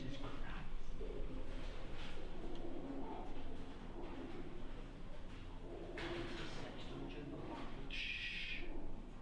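Pigeons cooing softly in the distance under a steady low background rumble, with a few faint rustles and one brief higher chirp, while people murmur quietly nearby.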